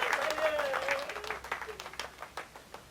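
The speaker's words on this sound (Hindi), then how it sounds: "हमें हमें तालियां, तालियां, तालियां" A crowd applauds with a burst of clapping that gradually thins and fades, while a voice is briefly heard over it at the start.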